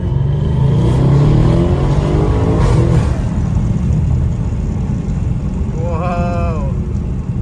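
An Audi S6 fitted with an RS7 turbo upgrade accelerates hard on a test run, a loud, sustained engine roar that rises in pitch and holds steady throughout, with a brief whistling tone near the end.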